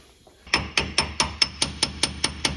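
A hammer pounds a pinion part onto the rear differential of a 2010 first-generation Ford Raptor during a pinion seal replacement, giving ten evenly spaced sharp metallic blows, close and loud, with no talking.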